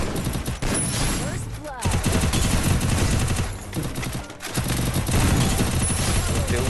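Rapid automatic gunfire bursts in a Free Fire battle royale match, loud and close, with brief gaps between volleys and a player talking over the shooting.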